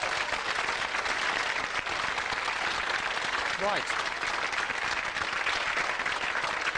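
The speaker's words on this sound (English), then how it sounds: "I think you deserve another round of applause" A 1991 television studio audience applauds for a contestant, dense continuous clapping at an even level throughout, with a short spoken word breaking in near the middle.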